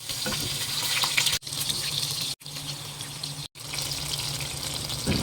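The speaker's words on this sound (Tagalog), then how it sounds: "Ipiprito lang natin lahat ng talong." Eggplant frying in hot oil, a steady broadband sizzle that runs throughout with three sudden brief dropouts, close and fairly loud with no talking.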